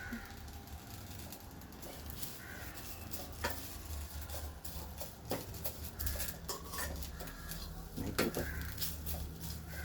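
Curry leaves roast and rattle in a pan for a Marathi-style curry-leaf chutney, a faint scratchy patter and clatter running steadily throughout, with a few sharper clinks and voices speaking over it.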